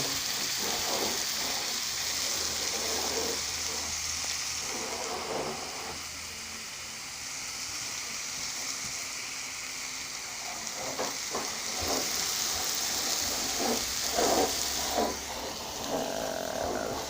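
Sausage patties sizzle steadily in a frying pan, a dense, continuous crackle with occasional scraping knocks as they are flipped, close and fairly loud with no talking.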